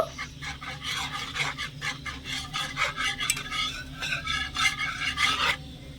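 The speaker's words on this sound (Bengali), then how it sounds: "এবারে দিয়ে দিচ্ছি দশ টাকার এক প্যাকেট গুঁড়ো দুধ ভালো করে মিশিয়ে নেব" A spoon stirs a ten-taka packet of powdered milk into boiled water in a pot, making rhythmic, close scraping and swishing strokes that continue steadily with no talking.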